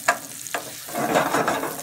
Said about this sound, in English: we needed to stir fry that. Until the garlic gets golden.